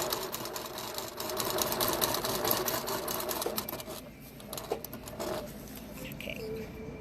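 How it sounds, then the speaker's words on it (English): A sewing machine stitches straw onto medium-weight pellon with a fast, steady mechanical rattle, close and fairly loud, slowing and breaking into a few scattered clicks toward the end. "And then you just proceed to stitch your straw down onto your medium weight pellon."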